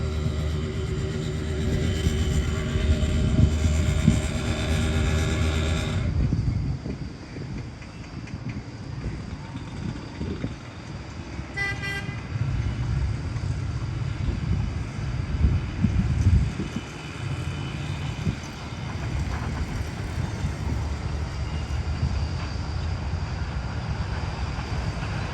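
Hazara Express train passing on the Lalamusa-Shorkot branch line near a railway crossing, a loud sustained rumble of wheels and carriages with a brief horn-like tonal burst, steady and close throughout.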